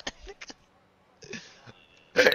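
A couple of brief coughs or throat-clearing sounds amid quiet background noise, followed by a louder burst near the end.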